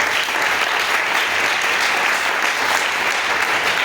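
Sustained applause from a church congregation, dense and loud, many hands clapping evenly for several seconds with no letup and no clear voices.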